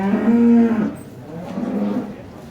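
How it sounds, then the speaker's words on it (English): A Jersey cow at a dairy cattle auction gives a loud, drawn-out moo, then a second, lower and quieter moo follows after a short pause. "These are Jersey cows."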